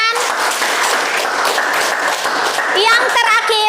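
Classmates in an Indonesian school classroom applaud together in a dense, steady burst of clapping, with children's voices and chatter rising over the noise near the end.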